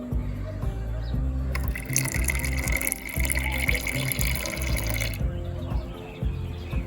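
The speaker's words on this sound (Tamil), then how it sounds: "இப்போ நம்ம பால் ஊற்றிக்கலாம்." Milk is poured into freshly filtered rose petal tea, giving a close, steady liquid splash and trickle for a few seconds against a low background hum.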